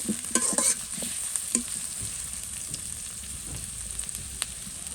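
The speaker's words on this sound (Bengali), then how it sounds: "এখন হচ্ছে সরিষার তেলটা দিয়ে দিতেছি এরপর পেঁয়াজটা ভাজা ভাজা করবো" Onions and green chillies sizzle steadily in hot mustard oil, broken by a few sharp scrapes and clinks of stirring.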